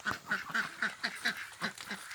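Ducks quack at feeding time on a backyard farm, a rapid run of about eight nasal calls in quick rhythm, close by and moderately loud.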